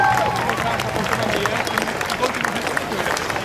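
A dedicated crowd at a political rally for Canada claps loudly and continuously, a dense steady wash of applause throughout.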